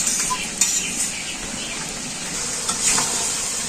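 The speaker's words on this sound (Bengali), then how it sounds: "ভালো করে নাড়া দেবো একবার" Food being stirred in a cooking pot, a steady close hiss of frying with occasional soft scrapes and a light utensil clink, no talking.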